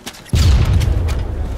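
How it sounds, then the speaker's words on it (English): A grenade blast in the military shooter ARMA 3 booms out suddenly and loudly, then leaves a heavy, rumbling roar that lingers and slowly fades. "Grenade and explosion northwest"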